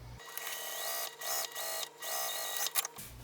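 A domestic sewing machine stitches a vinyl pouch in several quick bursts with brief pauses between, a close whirring hum and rhythmic needle clatter.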